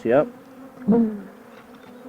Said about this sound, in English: So now we're down in the bottom of this hive, in the bottom Box.